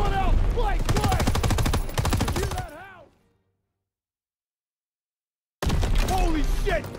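Rapid machine-gun fire in Call of Duty WW2, dense rattling bursts for about three seconds with shouting voices over it, then a sudden silence before loud firing and voices cut back in.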